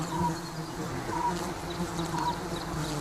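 A swarm of honey bees hums as they return to the nest, an even, close buzzing that holds at constant loudness throughout, with no speech.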